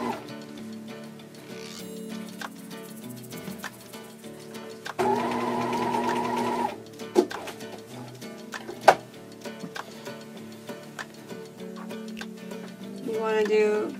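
A sewing machine stitches a welt pocket in a short, fast whirring burst of needle taps, with quieter ticking around it while a person talks throughout.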